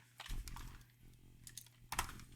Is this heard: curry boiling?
no